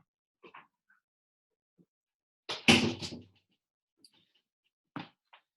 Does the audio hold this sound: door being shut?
yes